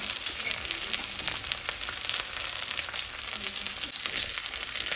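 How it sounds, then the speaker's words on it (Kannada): Mackerel coated in masala frying on a tawa, a dense, steady close sizzle with occasional soft scrapes and crackles as pieces are turned, no speech. "ಹೇಗಾದರೂ ತಿರುಗಿಸಿದೆ ಫ್ರೈ ಆಗಿ"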